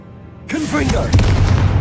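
Confringo spell blast cast in Hogwarts Legacy: a voice briefly, then a sudden booming burst with crackling, rumbling impacts that stay loud and close to the end.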